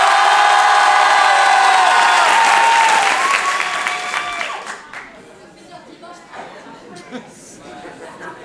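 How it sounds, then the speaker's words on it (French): An audience at an improv show in Paris bursts into loud, sustained applause with whoops and cheers, which fades after about four seconds into scattered claps and crowd chatter. "applaudissez maintenant"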